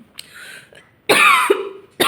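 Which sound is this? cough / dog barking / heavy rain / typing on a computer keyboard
cough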